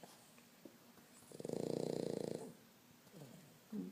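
A pug snores in a single loud, rattling burst lasting about a second, with quieter breathing and faint rustles before and after.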